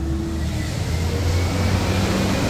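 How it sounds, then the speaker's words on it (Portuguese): Heavy trucks roll past on a nearby road in a steady, continuous rumble with a broad low drone, fairly loud and unbroken for the whole stretch. "Aí os caminhão passando aí."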